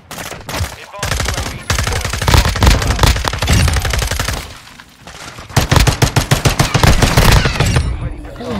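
The FSS Hurricane submachine gun fires rapidly in Modern Warfare II gameplay, with loud, dense strings of shots in long back-to-back bursts and only brief gaps between them.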